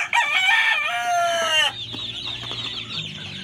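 A pure SBR Banahaw gamefowl rooster crows once, loud and close, in a rising then drawn-out cock-a-doodle-doo that ends abruptly, followed by softer clucking and faint farmyard noise.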